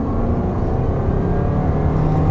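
A 2026 Toyota RAV4 Hybrid XSE engine with an eCVT runs as a loud, steady, droning hum heard from inside the car, holding high revs throughout with a faint whir on top.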